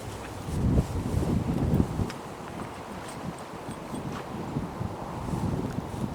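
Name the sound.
strong wind in a field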